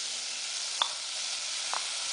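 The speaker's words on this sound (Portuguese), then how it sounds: "alho com cebola fritando é muito gostoso" Garlic, onion and fresh bell pepper frying in a pan for a sausage-in-sauce dish, giving a steady, soft sizzle with a couple of brief louder pops, no talking.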